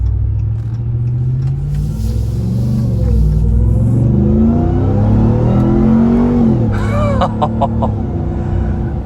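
A 702 hp RAM TRX pickup accelerating hard, its engine note climbing steeply through the gears with a brief drop at a shift, loud and close from inside the cab, no talk.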